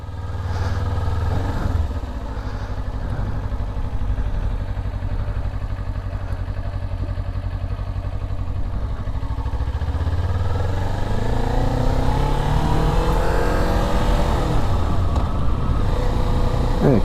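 A motorcycle in a parking-lot practice drill for swerving and emergency braking holds a steady engine drone, with the pitch sliding and rising toward the end as it speeds up again.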